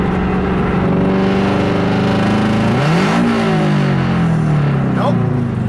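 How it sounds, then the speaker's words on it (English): A Nissan S14 engine revs loud and close with the clutch held in, its steady drone climbing sharply around midway, then dropping back to a lower rumble that keeps going. "if I hold in the clutch and rev it"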